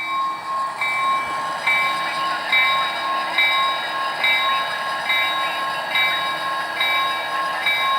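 Locomotives switching rail cars in a local yard, with a steady rumbling drone and a faint, regularly repeating metallic squeal or clatter of wheels on track, continuous and fairly close without talk.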